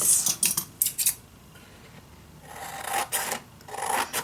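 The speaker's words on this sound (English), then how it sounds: "I'm gonna cut this off, what we don't need." Scissors trimming excess paper for a handmade scrapbook mini album: several quick crisp snips close up, followed by softer sliding cuts and rustling paper, with no talking.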